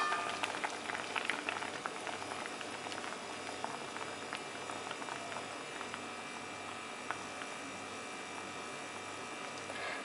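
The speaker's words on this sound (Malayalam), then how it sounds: "ഷീമച്ചക്ക നമ്മളിപ്പോൾ അടച്ചു വെച്ച് വേവിക്കാൻ തുടങ്ങിയിട്ട് ഒരു 5-6 മിനിറ്റ് ആയിട്ടുണ്ട്" Breadfruit (sheema chakka) boiling in a covered pan for a Kerala-style koottu, giving a steady, close bubbling and patter with no talk.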